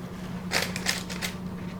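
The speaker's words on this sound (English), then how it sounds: "So we'll go ahead and cut some brownies." Knife slicing through a pan of sourdough brownies, a few soft crisp scraping cuts close by over a steady low background hum.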